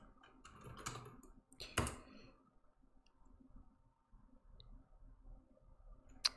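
Computer keyboard keys clatter in short quick bursts, with a few separate clicks and presses spaced out afterwards, close and fairly quiet in an otherwise still room.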